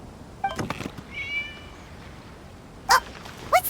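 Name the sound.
cat meowing in the video game Genshin Impact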